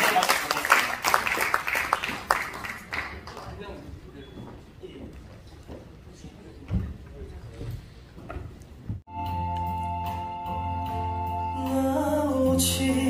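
An audience claps in quick, dense bursts at the 2023 World Couples Day ceremony at the National Assembly, then fades under a speaking voice before music begins.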